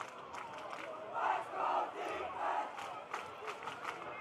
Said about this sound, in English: The Blue Devil crowd cranking up the chant for the defense.